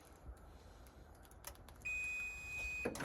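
A steady electronic beep tone from a Chevy Silverado power tailgate starts partway through and holds as it closes, with faint clicks and rustling before it.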